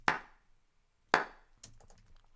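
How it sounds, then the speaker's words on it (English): Room reverb from a hand clap, separated from the dry sound. Two washy bursts each decay over about half a second, followed by softer scattered reflections. "just the reverb,"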